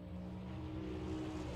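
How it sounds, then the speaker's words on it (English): Audi Quattro race car in an online racing video game at the Hungaroring, a faint steady engine drone with tonal harmonics as it runs through the gears, with no voices. "that amazing car just running through the gearbox"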